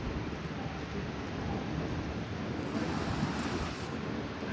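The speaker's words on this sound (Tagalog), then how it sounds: "Ang lakas ng ulan." Heavy rain falls steadily during outdoor fishing, a dense, even hiss with wind noise buffeting the microphone throughout.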